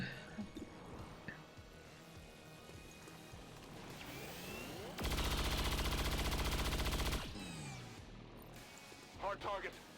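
Overwatch gunfire from a soldier's weapon in XCOM 2 Long War of the Chosen, a fast rattling burst of automatic shots lasting about two seconds in the middle, surrounded by quieter game sounds and faint talk.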